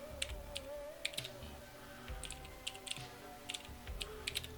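Notes typed on a computer keyboard, quick irregular clusters of light key clicks, close but fairly soft, over a steady background hum.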